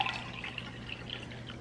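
Water pouring into a Papablic portable milk warmer until it overflows, a steady splashing trickle heard close by over a low background hum.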